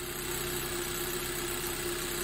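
A car engine idles steadily during camshaft and crankshaft sensor testing, giving a constant, even hum with no talk over it.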